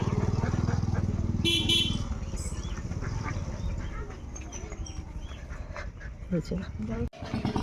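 Ducks quack and honk close by among outdoor noise, with a voice talking over them in the middle and a sharp knock near the end.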